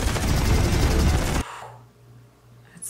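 A loud, rapid burst of machine-gun fire from fighter-jet guns in the film Top Gun: Maverick lasts about a second and a half, then cuts to a quieter low rumble.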